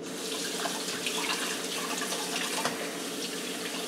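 Tap water runs steadily into a sink while hands are rinsed during homemade burger and meatball prep, a close, continuous splashing hiss with slight shifts as the hands move under the stream.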